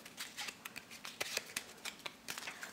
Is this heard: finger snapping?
no